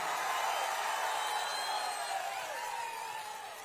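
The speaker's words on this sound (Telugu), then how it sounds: "గట్టిగా చప్పట్లు కొట్టి మరొక్కసారి అభినందించాలి." A rally crowd at a TDP political gathering claps and cheers in a dense, continuous wash of applause that gradually eases off toward the end, with no talk over it.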